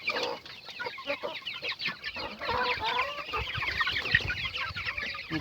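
Chickens and young chicks around forty days old cluck and cheep continuously outdoors, a dense mix of near and farther calls with no talking.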